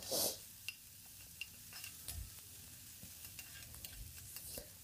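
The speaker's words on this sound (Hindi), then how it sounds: "अब एक प्याज हमने बारीक कट करके रख लिया था और एक हरा मिर्चा है इन्हें हम भून लेंगे अच्छी तरह से" Finely chopped onion and a green chili fry in a pan on a medium flame for aloo baingan chokha, giving a faint steady sizzle with soft, scattered stirring taps and scrapes and no talking.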